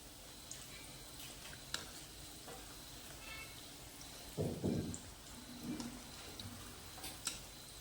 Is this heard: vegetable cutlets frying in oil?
yes